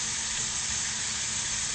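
Bacon frying in a pan for a summer spaghetti dish, a steady dense sizzle that stays even and close throughout, with no talk over it.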